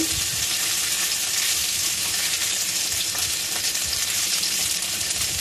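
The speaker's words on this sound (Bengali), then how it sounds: "মাছগুলো একটু কড়া করে ভাজতে হবে" Small mourala fish fry hard in oil in a wok, making a loud, dense, unbroken sizzle that stays close and steady throughout, with no talking.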